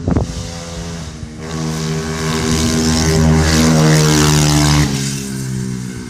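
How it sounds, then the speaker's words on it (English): A dirt bike engine drones steadily for about six seconds, a loud, sustained motor hum that swells toward the middle and eases off near the end, with no talking over it. "That's a dirt bike."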